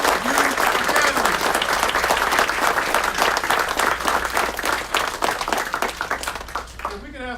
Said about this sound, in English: Give a round of applause for the class of 2019 Law Enforcement Youth Academy.